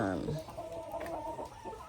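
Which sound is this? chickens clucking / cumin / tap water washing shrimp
chickens clucking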